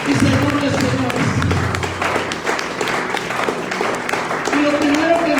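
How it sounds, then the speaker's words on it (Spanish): A church congregation claps together in a dense, sustained burst of applause lasting several seconds, with voices mixed in beneath the clapping. "Dale un aplauso al Rey de Reyes y Señor de Señores."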